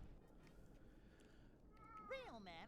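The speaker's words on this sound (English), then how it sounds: "my cat is vocal today" A pet cat lets out a drawn-out, wavering meow close by near the end, rising out of a steady low background hum.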